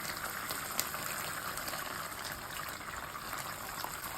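Two tablespoons of vinegar trickle steadily into a pan of loosened tomato paste sauce, a faint, even liquid pour with no speech.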